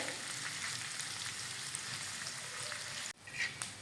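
Chopped onion frying in a pan on a griddle, a steady close sizzle running alone until a sharp knock near the end, then the hiss continues more softly.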